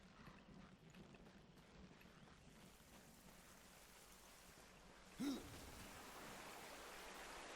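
Hooves clip-clopping at a steady walk in the video game Darksiders II, faint and continuous beneath a soft rain-like hiss, with one brief louder burst near the end.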